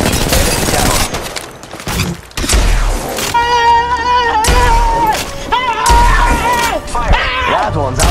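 Rapid video game shooter gunfire, loud bursts of shots and booming impacts crowding together, layered with game voices and music tones.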